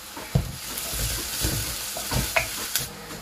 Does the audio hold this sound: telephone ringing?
no